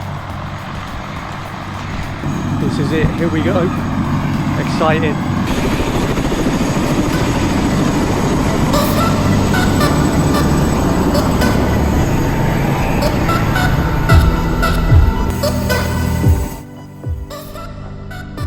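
Steady, loud engine and rotor rumble of a helicopter near a glacier fills the scene while people talk excitedly over it.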